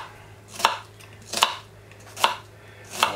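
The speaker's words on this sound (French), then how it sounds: "Donc on le coupe en deux, on coupe légèrement en biseau pour retirer la racine" A knife chops through a red onion on a cutting board in four crisp, evenly spaced cuts, close and clear over a quiet kitchen background.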